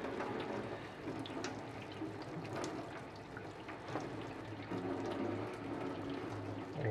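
Hot water running and splashing over beeswax in a silicone mould, a steady close watery wash with small drips and bubbling throughout, no talk.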